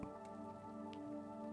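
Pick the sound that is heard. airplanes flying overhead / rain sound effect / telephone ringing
rain sound effect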